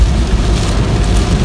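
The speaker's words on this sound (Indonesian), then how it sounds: "sekarang cuaca kembali hujan" Rain drums steadily on a Daihatsu Ayla as it drives out of Palembang. A dense, loud wash of rain and road noise fills the cabin without a break, and nobody talks.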